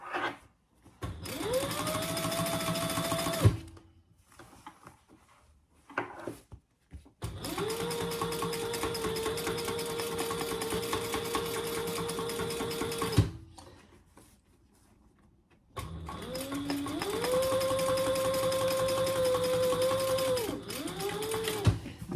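A sewing machine runs triple-stitching through a lightweight vinyl laptop bag in three long close bursts, each a loud steady mechanical whir that starts and stops with brief pauses between runs.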